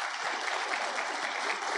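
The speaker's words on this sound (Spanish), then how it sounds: "Yo creo que se merece un aplauso" Audience applause following a talk on generative AI, hacking and fun: steady, dense clapping from a large hall, fairly loud and continuous throughout with no break.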